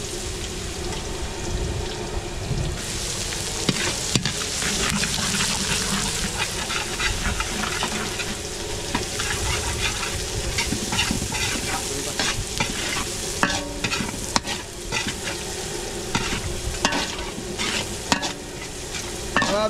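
Garlic and onions sizzle steadily in a large pan for on-the-spot cooking at a big outdoor event, stirred continuously with scraping strokes under a dense, loud frying hiss and no talk.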